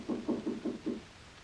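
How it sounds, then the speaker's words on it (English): Five evenly spaced knocks on a door, dull and close, land in quick succession at night in a 1946 film scene, followed by silence. "I heard this knock on the door"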